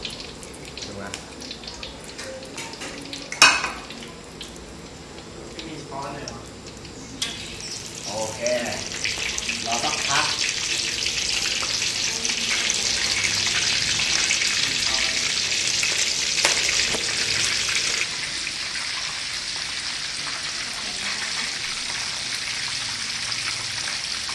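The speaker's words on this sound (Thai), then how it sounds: "แต่เราจะเอาหมูลงทอดก่อน" Shrimp and pork fry in a pan with a steady, loud sizzle that swells and holds, broken by a few sharp clatters and stirring scrapes; someone talks over it at times.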